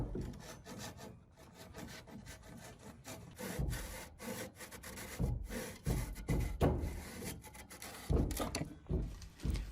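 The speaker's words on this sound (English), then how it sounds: "I have a little Japanese saw here since we do woodworking, of course, and it's real easy to cut it off with this" A small Japanese hand saw cuts through wooden shed siding in steady back-and-forth strokes, close and fairly loud, with rasping wood-on-wood friction and occasional heavier knocks, and no talking.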